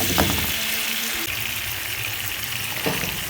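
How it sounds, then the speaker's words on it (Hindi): Browned onions with masala paste fry in a pan for an aloo gajar sabzi, giving a steady moderate sizzle and bubbling with a few light stirring clinks and no speech. "अब हम इसके अंदर मसाला जार डालते हैं और अच्छा सा हम इसको भून लेते हैं"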